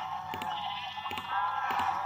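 Sheep in the video game Minecraft bleat several times in a row, each call a wavering, nasal tone that repeats at a steady pace over faint background noise.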